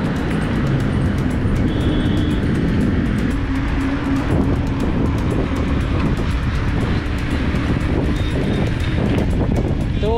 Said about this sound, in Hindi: उस साइड से इस साइड की ओर काफ़ी तेज़ हवा चल रही है